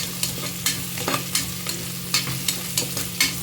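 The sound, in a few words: garlic sizzling while frying in a pan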